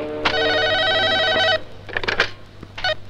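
A telephone rings with a sustained electronic trill for over a second, then shorter bursts follow amid some indoor noise.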